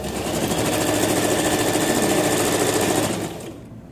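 A sewing machine running at speed while hemming a robe, a loud, close, continuous rapid needle chatter that holds steady for about three seconds and then winds down.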